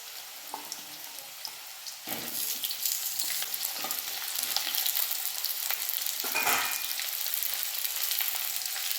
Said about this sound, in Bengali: তেলটা গরম হয়ে গেছে, এবারে করলাগুলো প্রথমে দিয়ে দিচ্ছি। এবারে আমি আলুগুলো দিয়ে দিচ্ছি।